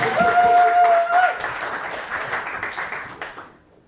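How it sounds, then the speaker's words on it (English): Poetry slam audience applauding and cheering loudly, a dense burst of claps and voices that gradually fades out over a few seconds. "I want to hear a big, massive cheer for Simon Mccoy"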